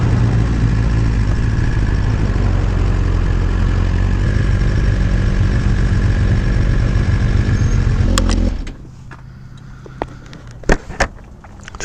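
A 2018 Suzuki GSX-R1000 liter sport bike idles close and loud with a steady low drone, then shuts off abruptly near the end, leaving quiet broken by a few sharp clicks.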